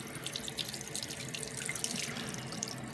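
Tap water runs steadily into a sink while an injured turtle hit by a car is rinsed under the stream, a continuous close splashing hiss with faint drips and no talk.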